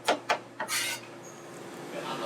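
Knife thinly slicing vegetables on a cutting board while cooking pork with fennel: a few quick, crisp chopping knocks close by, then a softer scraping sweep, with no talking.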